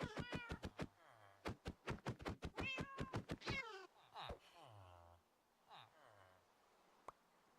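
Several Minecraft cats meow in a rapid string of loud, close calls, followed by a few softer, scattered meows with a sharp knock near the end.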